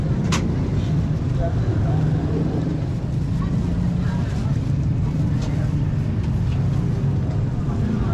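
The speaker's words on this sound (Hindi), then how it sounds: "क्योंकि ये मेन मार्केट है तो रिक्शों और गाड़ियों का काफ़ी शोर आपको यहाँ पे मिलेगा।" Busy main market street with rickshaws and other vehicles, a steady loud rumble of traffic and engines with a constant low roar, faint voices and occasional brief clatters mixed in.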